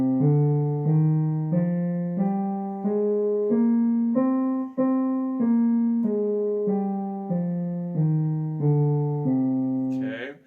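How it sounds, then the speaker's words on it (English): A minor scale played note by note on a sustained, organ-like keyboard tone, stepping up and back down in even, connected notes, clear and alone. "And a minor scale sounds a little different than the major."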